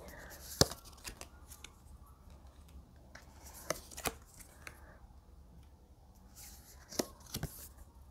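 Tarot cards shuffled and drawn in a quiet room, soft scattered rustles and slides with a few sharp flicks as cards are pulled.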